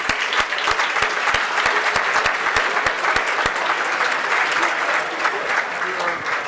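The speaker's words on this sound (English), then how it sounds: "give yourselves a round of applause for coming" An audience at a charity gala claps heartily. Crisp individual claps stand out above a steady, dense wash of applause that stays full throughout.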